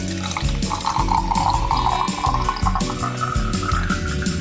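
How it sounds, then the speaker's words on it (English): Water pours steadily into a metal saucepan with a folded towel on the bottom, a continuous splashing, gurgling stream that stays loud and close throughout. "We'll add some water."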